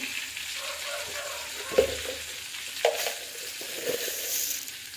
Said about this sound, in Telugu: ఆయిల్ వేసి పోపు పెట్టుకుంటున్నామండి